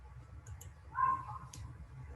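A single soft computer mouse click during a software installation, faint and brief against a low room hum, with a couple of tiny ticks around it.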